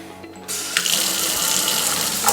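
Water runs from a tap into a stainless steel kitchen sink, starting after a brief quiet moment and then streaming steadily and loudly up close, with a small clatter partway through and no talking.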